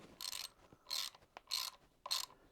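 A hand ratchet tightening a bolt on a Yamaha FJR1300 motorcycle, four distinct bursts of rapid clicking separated by short pauses, close and clear with no voices.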